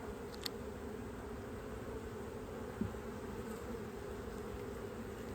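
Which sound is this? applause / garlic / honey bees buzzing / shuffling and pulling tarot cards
honey bees buzzing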